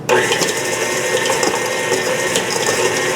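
KitchenAid stand mixer creaming butter at low speed, a steady close mechanical whir with rhythmic gear clatter throughout and no speech.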